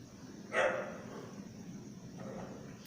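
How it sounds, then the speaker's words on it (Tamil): A dog barks outdoors in the evening, one fairly faint bark from a short distance followed by a softer second bark, over steady background hum. "நாய் குலைச்சிட்டே இருக்குது"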